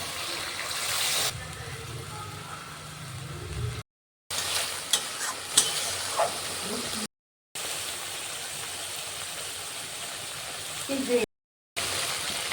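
Ground tomato paste sizzles and fries in hot oil with spices in a pan while being stirred, a steady hiss broken by brief gaps and occasional scraping clinks.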